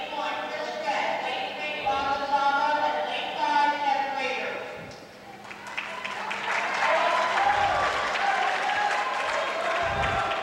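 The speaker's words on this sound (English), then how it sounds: "Cheers coming from the crowd, from the North Penn fans." A crowd at a high school boys' swim meet cheers and applauds steadily, a dense roar of many voices in an indoor pool that swells after a brief dip, with commentary heard over it.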